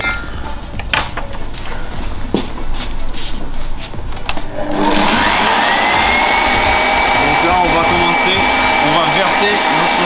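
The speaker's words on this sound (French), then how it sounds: "Moi, aujourd'hui, j'ai décidé d'utiliser le batteur" An electric hand mixer whips egg whites for macaron meringue. Scattered clicks and handling sounds come first, then the mixer takes over as a loud, close, continuous whir with a steady motor whine that runs to the end.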